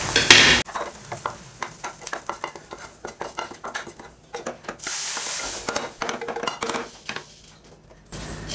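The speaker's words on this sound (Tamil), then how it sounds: "இப்போ வதக்கி வச்சு நல்லா இதை பருப்பில் சேர்த்துடலாம்." Sautéed onion and green chili being stirred into cooked dal, a soft sizzle under repeated scraping and clinking of a spoon against the pot, close and fairly quiet, with no talking.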